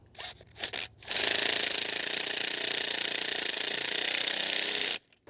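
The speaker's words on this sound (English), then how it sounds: "you're really going to probably want an impact on these just to kind of drive these in" An impact driver hammers a self-tapping Phillips screw into an RV slide-out awning end cap on a 2020 Grand Design Solitude fifth wheel. A few short rattling bursts lead into a loud, continuous ratcheting run of about four seconds that stops abruptly.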